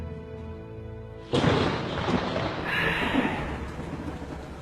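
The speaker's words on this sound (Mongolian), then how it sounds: "Энэ бороо чинь бүр ширүүллээ." Heavy rain in Ulaanbaatar starts suddenly as a loud, dense wash with low rumbling thumps. It builds and stays steady after a quiet opening.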